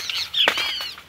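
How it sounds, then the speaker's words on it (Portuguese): Small birds flutter their wings and chirp near a cornfield on a cloudy, rainy-looking day. There is a short burst of flapping, then a few thin, bright tweets, close by, with no talk. "Passarinho tudo animado."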